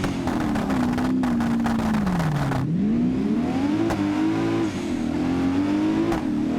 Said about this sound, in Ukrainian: Ця машина, ось, це Лес, Мерседес.